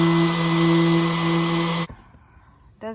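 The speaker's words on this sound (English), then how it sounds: "this is the most coarse sandpaper that I could find" A machine droning steadily with a strong tonal hum while coarse sandpaper works old paint off a house, then cutting out abruptly and leaving near-silence before a brief voice.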